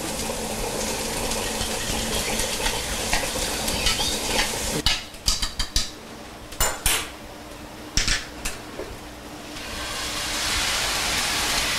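Egg goes into a pan of sautéed vegetables, with a steady sizzle under a run of sharp clinks and scrapes of a utensil against the pan, the frying hiss swelling again near the end.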